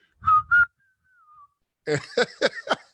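A person whistles two short notes and then a long, thin gliding tone, pauses, and follows with a burst of close, rapid warbling whistles.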